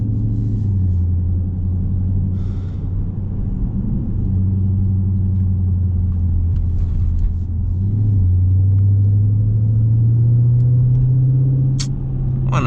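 Dodge Scat Pack car driving at night, its engine giving a loud, steady low rumble close by, swelling slightly as it pulls, with faint road noise and no talk.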